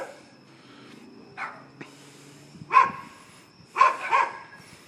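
Several dogs bark outdoors in the evening, sending out a few scattered, moderately distant barks and yips in short bursts separated by quiet gaps.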